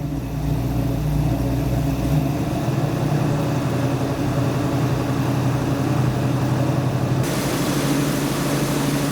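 Engine of a 1970 Dodge Challenger R/T convertible held at a steady low rev around 1,500 RPM, a loud continuous rumble close by that drops slightly in pitch near the end, with no talking.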